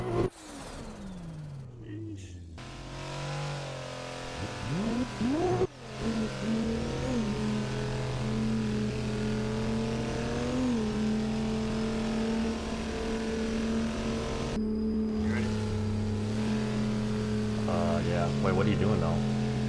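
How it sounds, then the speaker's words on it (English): Race cars in the Assetto Corsa racing game, a 883 hp MK4 Supra against a C63S AMG on a lakeside circuit, roar and rev with shifting engine pitch, loud and continuous, while people talk over the engines. "The cars are too loud."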